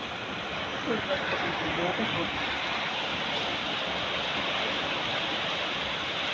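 In Tanauan City, Typhoon Kristine's pounding rain and strong wind keep up a close, loud, continuous roar, with a person briefly talking over it early on before the downpour runs on alone.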